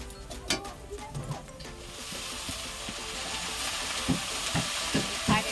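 Red amaranth greens drop into a pan of hot oil with fried onion and chilli, and a steady loud sizzle swells and holds, broken by a few clinks and scrapes of the spatula.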